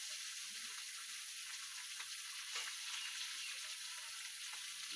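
Turmeric and ground spices fry in hot oil in a pan for a Bengali fish curry with drumsticks, giving a steady, even sizzle that stays fairly quiet from start to finish and carries no voices.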